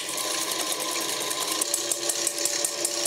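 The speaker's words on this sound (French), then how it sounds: "Juste l'action de mélanger les jaunes avec le sucre et de bien fouetter" Electric mixer whisking egg yolks with sugar for tiramisu, a steady high motor whine with rapid rhythmic beater clatter, loud and close, with no voices.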